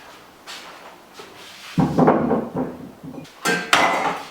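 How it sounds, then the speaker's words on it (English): Boiled new potatoes are drained from a pan, with a rush of pouring water and several sharp clatters of the metal pan and lid, loud and close in the kitchen. "So we're going to drain these off now"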